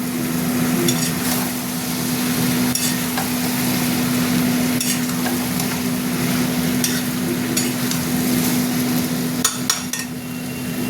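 Spice paste with curd sautéing in a pan for a spicy jackfruit and prawn curry, a continuous loud sizzle broken by repeated scraping and tapping of a spoon stirring against the pan.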